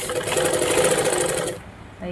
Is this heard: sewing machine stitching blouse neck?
yes